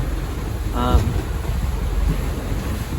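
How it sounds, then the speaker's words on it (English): Steady wind roaring across the deck of a Fountaine Pajot Astrea 42 sailing catamaran at sea in about 15 knots, with continuous broadband rush, waves and hull noise and a brief faint tonal squeak partway through. "The wind started to die down. It's now 15 knots."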